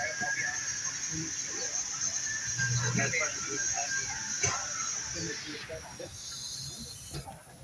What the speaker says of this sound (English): You can see it went to fill, now it's slow rinse, just going through all the operations.